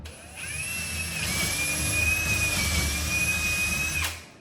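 A power drill spins up and whines steadily for several seconds, drilling through a wooden door for a handle, close and loud, then stops abruptly.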